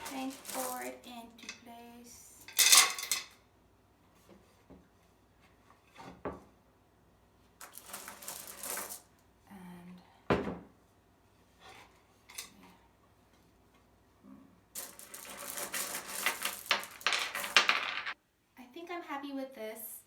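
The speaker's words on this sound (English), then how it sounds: "Now I'm gonna kind of add rocks around to kind of hold our pot into place" Rocks set down around a plant pot while potting a Monstera dubia, giving scattered clinks and clacks in separate bursts with quiet gaps between them.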